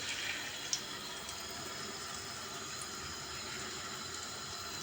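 Lentil patties (mercimek köftesi) frying in oil in a pan, a steady, moderately quiet hiss and sizzle that holds evenly throughout, with one small pop near the start and no talking.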